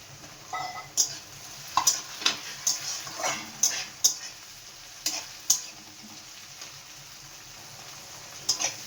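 Chopped tomato with crushed garlic sizzles in hot oil as a utensil stirs it, scraping the pan with sharp clinks and occasional louder knocks.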